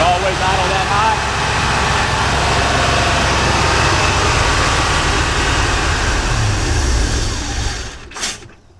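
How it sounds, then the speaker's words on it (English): Car engine with a freshly rebuilt Edelbrock carburetor running at a high idle, a loud steady rumble and hiss that fades at the end as the engine is shut off. "Idled up. Is it always idle that high?"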